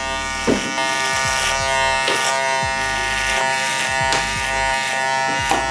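Electric hair clippers with a 1.5 guard cut a beard short, a loud, close, steady buzz with a few short pauses and changes in load as strokes pass through the hair.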